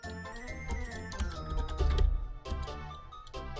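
Quick typing on a computer keyboard, a rapid patter of clicks that rises and falls over a low background hum, close by and with no voices.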